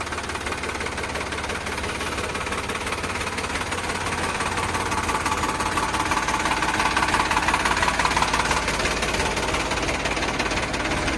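A Sonalika 745 tractor engine idles steadily, its dense diesel rumble carrying a rapid knocking clatter that holds constant and close for the whole stretch, with no talking over it.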